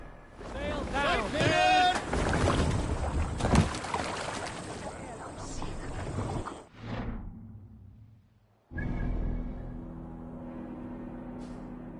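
A sailing longship in Assassin's Creed Valhalla lets out its sail, with rushing wind and water around the hull, a sudden drop, then steady creaking and sloshing. Voices shout and speak over the start.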